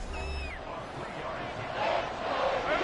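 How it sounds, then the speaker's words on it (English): A football stadium crowd roars steadily for its defense, a dense wash of cheering that swells slightly toward the end. "This crowd urging on their defense. They're up and making noise."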